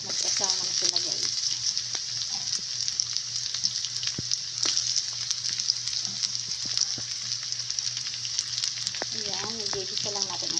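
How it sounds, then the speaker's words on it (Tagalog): Onion, garlic and ginger sauté in a pan for a Filipino coconut-milk shell and crab dish, giving a steady bright sizzle throughout, with occasional stirring clatter and brief faint voices. "i-gigisa lang natin ang sibuyas, bawang, luya"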